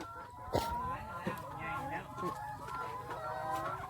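Hens cluck and squawk at a laying-hen farm, a dense overlapping chorus of calls with a few sharper cries standing out, while faint voices murmur underneath.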